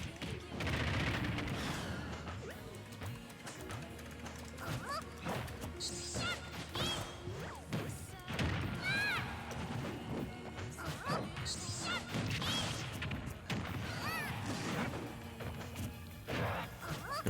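Super Smash Bros match between Kirby and King Dedede, with Kirby landing an up smash among a flurry of sharp hit impacts, crashes and whooshes over game music, loud and busy throughout, with a commentator's voice underneath.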